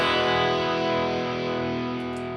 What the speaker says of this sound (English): phaser effect